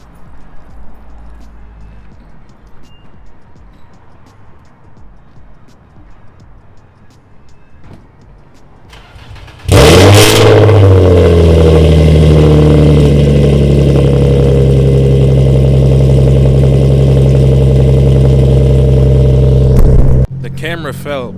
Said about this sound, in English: the exhaust never gets old, bro. It just sounds so deep and aggressive, it's crazy.